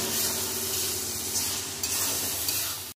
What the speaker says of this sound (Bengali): তেলটা মশলার মধ্যে দিয়ে আরও কিছুক্ষণ কষিয়ে নেব।